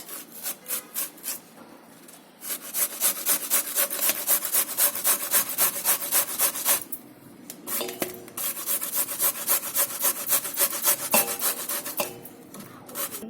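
Radish being grated by hand in a home kitchen: steady rapid rasping strokes in two long bursts with a brief pause between, close and fairly loud, no talk.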